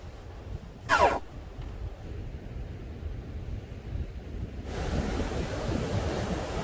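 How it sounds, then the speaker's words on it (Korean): Ocean surf rolls in as a steady broadband wash on a sunny beach during a fishing outing, rising louder near the end, with a short bright burst early on and no talking. "파도가 아직 많이 치네요."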